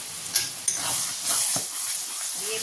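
Chicken masala being stir-fried and reduced in a pan with tomato sauce, chilli sauce and sugar gives a steady close sizzle and hiss, broken by a few sharp scraping stirs.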